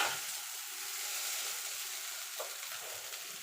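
Egg chowmein sizzles steadily in a hot pan in a Kolkata-style home kitchen, a soft hissing fry with faint scraping from stirring and mixing, quiet and close with no talking.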